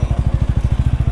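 TVS Ronin 225cc motorcycle climbing uphill toward a hilltop viewpoint, its engine throbbing in a steady, even low pulse that stays close and fairly loud throughout.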